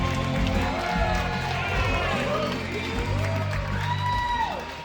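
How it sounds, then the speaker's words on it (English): Wedding guests at a reception clap and cheer together in a steady, loud burst of applause, with music playing and an announcer's voice running underneath. "Big, big round of applause for Catherine and Mom looking great"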